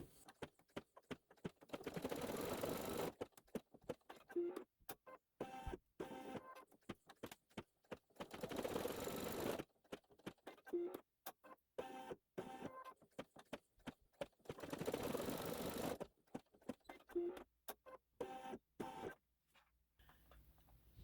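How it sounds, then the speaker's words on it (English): An embroidery machine stitching out small candle flames on a haunted house quilt block, with bursts of rapid mechanical whirring and ticking that start and stop repeatedly, fairly quiet and close. "Now it's going to stitch out the flames at the top of each of the candles."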